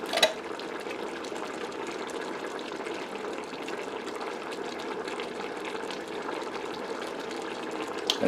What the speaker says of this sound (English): I'm going to add the tomato sauce